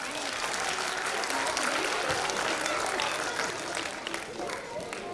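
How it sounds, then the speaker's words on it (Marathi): A crowd claps loudly and continuously to welcome performers at a children's comedy play, a dense, even wash of applause lasting the whole stretch. "जोरदार टाळ्या वाजून स्वागत करूया"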